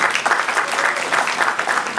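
Lively applause and clapping from a concert crowd welcoming a band member, steady and fairly close with a slightly pulsing rhythm.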